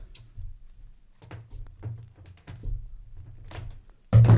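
A knife slices vanilla beans in half on a cutting board, making a run of soft, close, irregular taps, with a louder thump at the very end.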